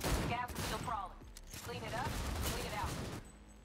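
Rapid automatic gunfire in Cyberpunk 2077, loud, sustained bursts that fill the short stretch before cutting off near the end.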